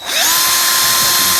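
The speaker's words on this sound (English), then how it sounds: "I ran that cable through there using the drill" A power drill spins up loudly and holds a steady high whine as it turns a cable through a VW Beetle fuel line to clean it, close and alone.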